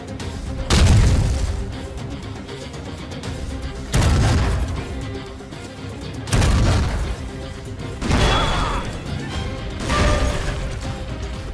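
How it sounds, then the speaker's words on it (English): Explosives detonate on the turrets of the Eben Emael fortress in May 1940 in five heavy booms at roughly two-second intervals. Each blast is loud and close, with a rumbling crash that tails off into the next. "Paratroopers put explosives on fort's turrets to destroy them."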